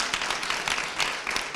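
Audience at a children's Christmas contest finals applauding, a dense continuous patter of many hands clapping at moderate distance, steady for its short duration.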